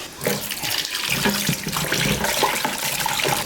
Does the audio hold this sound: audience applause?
no